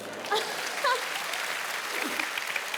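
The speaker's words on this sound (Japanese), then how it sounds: "なんかすごい拍手が聞こえるんだけど。" Steady applause from a crowd fills the whole stretch at moderate volume, with a few brief vocal sounds rising over it.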